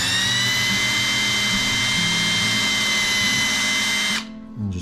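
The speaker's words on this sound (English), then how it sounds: "just drill a quick pilot hole on both sides" A power drill whines steadily at high speed for about four seconds boring pilot holes for hinges on a wooden box, then cuts off abruptly and winds down.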